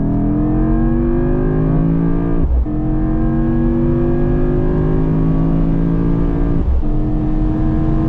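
A Mercedes-AMG GT63 hybrid V8 at full throttle in Sport Plus mode on the German Autobahn at night, heard from inside the car as a loud, rising engine roar, broken twice by quick gear shifts before climbing again.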